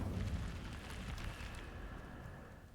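A fire spell cast in Hogwarts Legacy, a whooshing, rumbling burst of flame that starts loud and tapers into a steady crackling roar over a few seconds.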